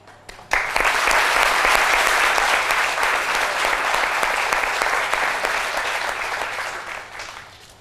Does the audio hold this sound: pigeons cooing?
no